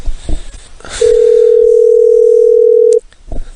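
A steady telephone dial tone on a landline during a prank call, holding loud and level for about two seconds between faint line noise and muffled background sounds.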